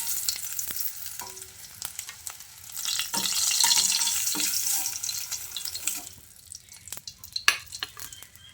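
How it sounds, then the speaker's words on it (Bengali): Eggs frying in oil for a restaurant-style egg curry, turned over in the pan: a steady sizzle swells in the middle, then eases, with scattered scrapes and clinks of the utensil; no voices. "এইভাবে উল্টে পাল্টে ডিমটাকে ভেজে নেবেন।"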